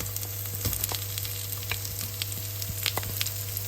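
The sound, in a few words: onions and garlic frying in mustard oil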